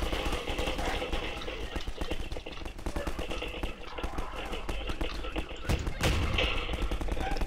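Machine gun fire in the video game Half-Life 2, heard as rapid, repeated bursts of gunshots that keep up a dense rattling rhythm with occasional heavier thumps, at moderate loudness with no talk over it.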